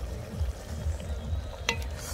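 Beef curry is stirred in a pot over a fire grill, giving a steady rhythmic scraping sweep every half second or so over a low sizzle, with one brief sharp clack near the end.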